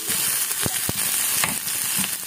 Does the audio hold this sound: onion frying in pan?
yes